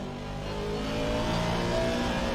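A race car in a sim racing game at the Hungaroring accelerates out of a corner, its engine droning steadily and climbing in pitch as the throttle opens, loud and continuous.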